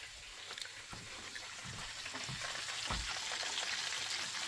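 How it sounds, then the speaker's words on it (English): Breaded pork loin deep frying in hot oil, a steady dense bubbling hiss that holds through the whole stretch with faint low pops and crackles, no voices over it. "It's bubbling away."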